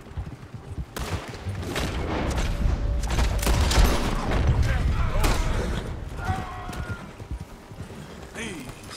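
Gunshots ring out in a Red Dead Redemption 2 shootout against an army convoy, loud cracks spread over nine seconds amid horse hooves, creaking and game noise, with bursts clustered in the middle and voices talking underneath.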